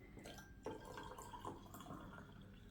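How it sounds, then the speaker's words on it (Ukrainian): Hot water is poured onto organic soap-nut laundry powder, a faint, soft splashing and trickling with small drips, heard alone at low level. "А тепер дивіться, беремо, додаємо гарячу воду."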